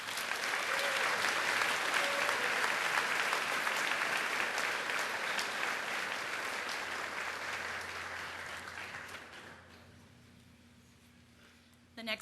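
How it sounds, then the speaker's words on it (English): An audience at a high school graduation commencement gives a sustained round of loud applause that slowly fades over about ten seconds, with a brief voice as it ends. "Please congratulate and give a round of applause to Brooke Martin."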